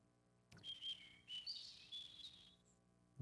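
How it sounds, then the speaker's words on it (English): Birds chirp and whistle beside a pond in the World Cup Golf: Professional Edition game on Sega Saturn, a quick run of bright tweets, soft and alone, ending abruptly. "the sound of the birds next to the pond"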